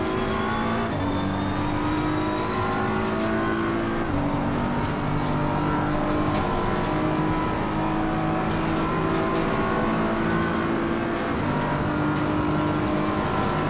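Race cars in Assetto Corsa Competizione running side by side, their engines whining and droning continuously with rising and falling pitch as they rev and shift, loud and close with layered motor tones.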